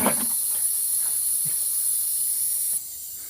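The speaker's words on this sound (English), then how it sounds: "you can hear that leaking, the valve" Close, steady hiss of air escaping from a leaking tyre valve, continuous for about three seconds before dropping slightly in level.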